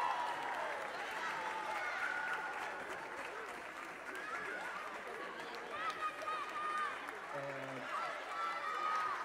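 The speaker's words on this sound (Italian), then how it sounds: "Un altro forte applauso" Crowd applause and murmuring chatter at an ice skating gala in Covo, moderate and somewhat distant, with voices and music-like tones mixed in over the clapping.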